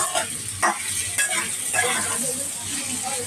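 Bitter gourd and potato pieces sizzle in a pan while being stirred, giving a steady frying hiss broken by a few brief scraping stirs, close and fairly loud.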